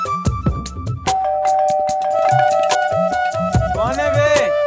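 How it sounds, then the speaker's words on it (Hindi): A doorbell at a Mumbai flat rings repeatedly in short chiming tones, loud and close, pressed again and again in an insistent rhythm with thumps around it. "घंटी बजा बजा के दिमाग का दही कर डाला है"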